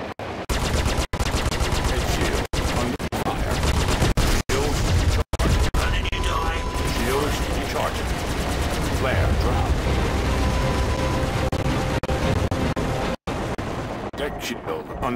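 Gunfire hits a shield during an ICC missions video game battle, a dense, loud, continuous barrage of machine-gun fire and impacts, with game voices breaking through now and then.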